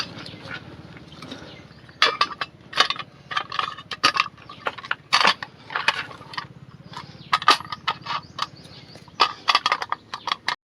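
Metal bolt being fitted and worked into a freshly drilled hole on a TVS Deluxe auto rickshaw, giving repeated close clanks, taps and ratcheting clicks in irregular bursts over a low steady hum.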